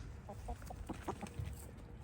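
Backyard hens in a garden give soft, scattered clucks at a faint, moderate distance over low background noise.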